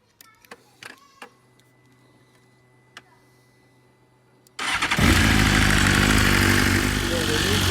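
A few scattered clicks and mechanical taps in quiet, then a BMW S1000RR sport motorcycle engine cranks and roars to life after an oil change, settling into a loud, steady revving idle.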